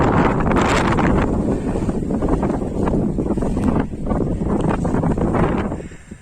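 Strong blizzard wind on South Demerdzhi mountain in Crimea roars steadily and loudly against the microphone, buffeting without pause before easing slightly at the end.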